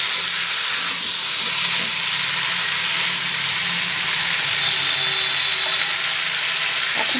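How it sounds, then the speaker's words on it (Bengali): Pumpkin and gobindobhog rice frying with spices after a cup of water is added, giving a loud, close, unbroken hissing sizzle with some stirring scrapes throughout and no talking. "এক কাপ জল দিয়ে ভালোভাবে নাড়াচাড়া করে নিচ্ছি"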